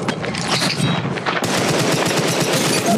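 Rapid automatic gunfire in the mobile battle royale game Apex Legends Mobile, a dense, loud stream of shots running continuously for about three seconds, with no pause and no voices.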